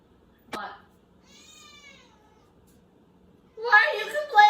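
Cat meowing and complaining from the floor in a kitchen, a sharp short cry followed by a drawn-out meow, then a louder burst of vocal complaint, close and otherwise quiet.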